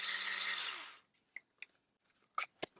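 A Wafting 9-in-1 electric spin scrubber whirs loudly at high speed for about a second, then cuts off, leaving a few faint clicks and taps in near silence.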